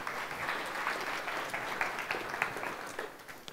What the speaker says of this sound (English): So a big round of applause for everybody for doing that.